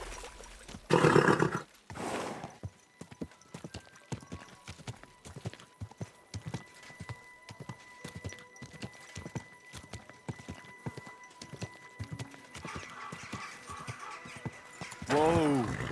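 A horse's hooves clip-clop steadily at a walking pace in the Kingdom Come Deliverance 2 video game, close and rhythmic throughout, with a snort and a neigh near the start and end.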